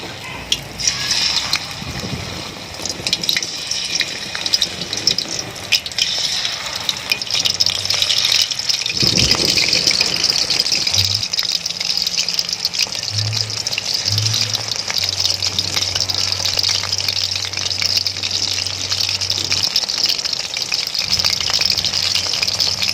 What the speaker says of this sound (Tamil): இப்போ வந்து ஒரு மீனாக நம்ம எண்ணெயில் போட்டு பொரிச்சிடலாம்.